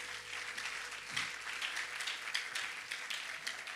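A church congregation applauding during a Christian sermon gives a steady, moderately faint wash of clapping that holds through the whole stretch with no talk over it.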